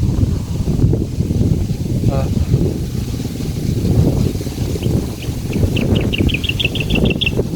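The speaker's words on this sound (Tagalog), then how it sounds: "Kusog kayo hangin." Strong wind buffeting an outdoor microphone near the sea, a constant loud rumbling roar with birds chirping faintly toward the end.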